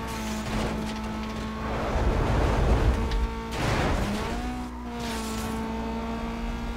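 A car in the racing game NFS Most Wanted drives with a steady engine drone and rising whine, swelling tire squeal and skidding in two loud bursts before settling back to a constant engine tone.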